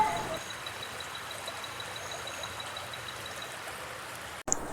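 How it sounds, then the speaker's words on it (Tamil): Kottakudi river flowing past a village: a continuous, even rush of stream water, steady and moderately near, with a brief break near the end and no speech. "இதுக்கு பின்னாடி ஓடுற ஆறு கொட்டக்குடி ஆறு."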